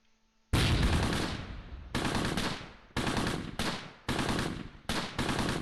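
Gunfire in the World War II video game Close Combat near Caen, loud close bursts of automatic fire, about six of them, each cutting off sharply with short gaps between.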